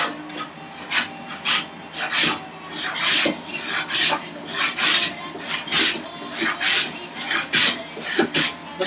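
Steady rasping strokes, loud and close, as a wooden board is flattened by hand on a stout carpenter's workbench with bench dogs, the strokes repeating in an even rhythm with no voice over them.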